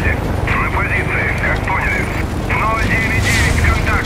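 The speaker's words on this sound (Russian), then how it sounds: "Блэквуд отправили в бой экспериментальный вертолет" Experimental helicopter in the video game Warface, a steady loud rotor and engine drone running through the whole stretch, with game sound effects and a voice heard over it at times.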